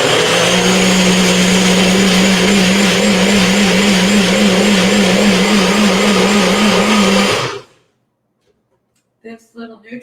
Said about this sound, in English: This little NutriBullet